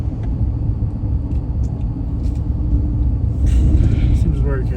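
Heavy trucks rumble past at night in Midland, Texas, a continuous low, loud traffic drone that swells toward the end, with people talking over it.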